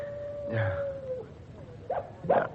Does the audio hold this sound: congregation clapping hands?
no